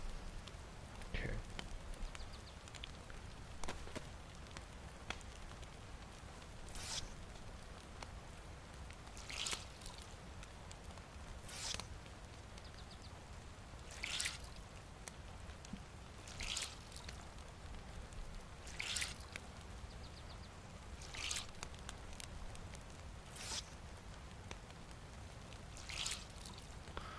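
Rain in the video game DayZ falls as a quiet, steady patter with drips and light trickling, joined by periodic soft bursts that repeat every few seconds over the whole stretch.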